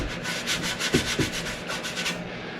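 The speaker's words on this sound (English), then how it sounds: "Give it a sand and see what I think." A Suzuki TS250 motorcycle part is sanded by hand in a steady series of about eight rhythmic rubbing strokes, close and clear.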